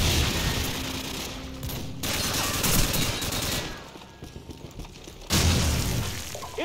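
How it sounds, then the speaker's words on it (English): A stun grenade in Call of Duty 4 multiplayer is thrown and goes off with a sharp, loud bang late in the stretch. Rattling gunfire and shifting battle noise come before it, with a brief quieter gap. "tossing stun grenade"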